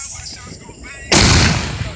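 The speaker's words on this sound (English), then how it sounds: "Come on, light a firework." A firework bursting outdoors on a night with lightning: quiet low rumbling and faint voices, then one sudden loud broadband blast that holds as a long, noisy crackling roar to the end.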